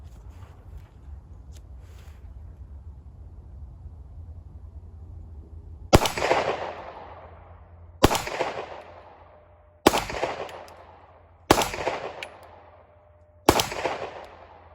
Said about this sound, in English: The gun will go bang.